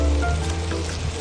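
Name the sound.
fried shrimp stir-fried with taro stolons (kochur loti) in pan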